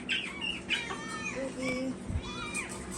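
A rooster crows in a barnyard setting, several strained rising-and-falling calls heard fairly near with faint clucking and background murmur.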